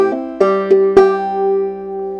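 A clawhammer banjo measure from Colored Aristocracy played as written, four crisp plucked strokes in an even rhythm over a sustained open-string drone, close and unaccompanied by speech.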